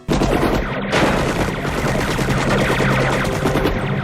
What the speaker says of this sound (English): As they try to escape, they're shot at again.